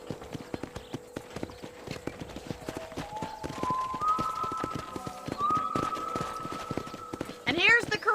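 Horse hooves clip-clopping in Red Dead Redemption, a steady rhythmic trot of close, crisp hoofbeats under tonal music, ending with a brief whinny.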